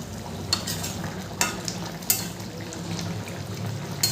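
Shukto vegetables get stirred in a frying pan, producing a continuous close sizzle broken by several sharp scraping clatters of the spoon against the pan at irregular intervals.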